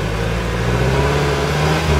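Cars accelerating in big city traffic, a loud, steady low engine rumble and revving drone that fills the whole stretch with no voices.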